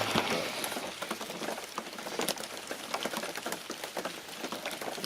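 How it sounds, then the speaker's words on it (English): Rain patters steadily on the roof and walls of a hunting shoot house during an afternoon muzzleloader hunt, a dense, continuous crackle of drops with no pauses and no voices. "we have a little rain problem"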